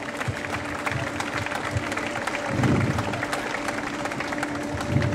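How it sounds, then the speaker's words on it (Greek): An audience at a Greek Chem-E-Car university competition claps warmly, a moderate, even patter of applause from a hall full of people that swells slightly midway. "Τους αξίζει ένα θερμό χειροκρότημα,"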